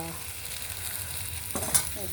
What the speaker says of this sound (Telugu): ఇప్పుడు ఉప్పు చేప వేగిపోయిన తర్వాత వచ్చాము